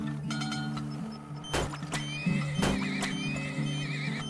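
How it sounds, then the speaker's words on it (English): Horses in the Turmoil video game give a couple of sharp whinnies and clop with hooves, over a steady droning game music background. "Get a couple more horses in the mix here"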